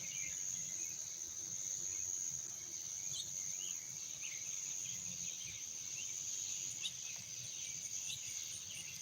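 Cicadas call in a steady, high-pitched drone outdoors around sunset, faint and constant, with a few soft, distant bird chirps above it.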